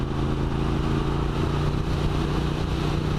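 A Triumph Street Twin motorcycle engine cruises in fifth gear at about 60 mph and roughly 4,000 RPM. The heard-from-the-saddle drone is steady and loud, with a constant low hum and wind roar, and nobody talks.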